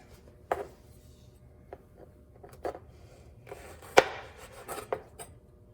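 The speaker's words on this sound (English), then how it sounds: "then we're going to cut our tomato into 6 wedges" A knife cuts a tomato into six wedges on a cutting board, making a few separate soft thuds and one sharper knock against the board, with quiet gaps between cuts.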